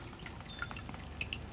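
Whey drips from cheese curds gathered and tied in muslin, with small, irregular, close-up drops over a faint background.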